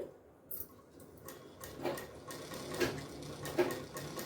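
A sewing machine stitches cloth slowly at a curve, giving faint, soft mechanical ticking and whirring that rises and falls in short uneven bursts, recorded quietly and close up.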